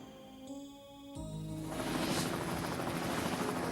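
A helicopter rotor rises out of a quieter tonal passage, building into a loud, continuous rhythmic beating and whine that holds steady to the end.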